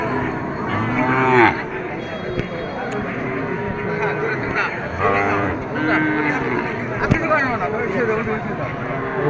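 Cattle at a livestock market moo in several long, loud calls close by, one after another, over steady crowd noise, with someone speaking throughout.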